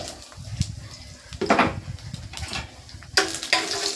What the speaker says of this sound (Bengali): এলাচ, এই লবঙ্গ আর একটু কালো জিরে ফোড়ন দিয়েছি।